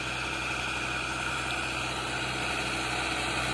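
An Ace 450 DI tractor drags a heavy 8-disc harrow through a field, its diesel engine droning in a steady, loud, unbroken hum with no talk over it.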